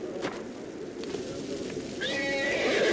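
A horse in a video game whinnies near the end, a rising neigh over a low background hum and soft rustling.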